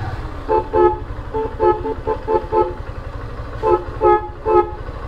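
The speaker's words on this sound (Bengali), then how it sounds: "কি হলো হর্নের অবস্থা কেন?" A faulty bike horn gives a series of short, uneven bursts of honking in two groups, loud and close, over a low engine rumble.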